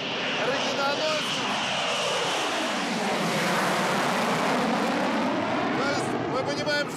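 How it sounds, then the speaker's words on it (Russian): A strategic missile-carrying bomber flies over the Engels air base in Russia, a loud, sweeping jet roar that swells and shifts in pitch as it passes, with voices speaking over it. "Но вот сейчас летит стратегический ракетоносец."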